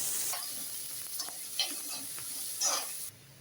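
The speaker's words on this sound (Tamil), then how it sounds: "இதே நல்லா வதக்கிடுங்க நல்லா வதங்கி வரட்டும்" Onions sizzle in a hot pan for a Tamil broad bean stir-fry, a constant frying hiss punctuated by a few scraping stirs of a utensil, close by and without talk.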